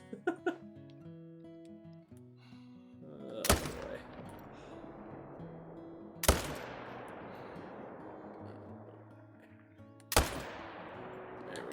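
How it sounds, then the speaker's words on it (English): Three sharp rifle shots ring out in a European bison hunting video game, each a loud crack with a long rolling echo, spaced several seconds apart, over faint ambient sounds and music. "Take another shot across the map."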